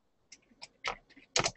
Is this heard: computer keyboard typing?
yes